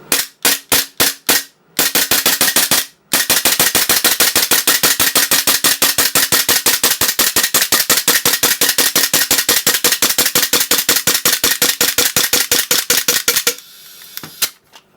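A Tokyo Marui G18C airsoft pistol fires with its stock magazine: a few separate sharp cracks, then a long, fast full-auto string of loud, crisp snaps that stops abruptly, followed by a brief softer clatter.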